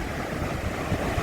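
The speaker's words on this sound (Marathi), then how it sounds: "मस्तपैकी समुद्राच्या लाटा येत आहेत." Sea waves washing onto a quiet beach in the late afternoon, heard as a steady, close rush of surf and wind noise with no voices over it.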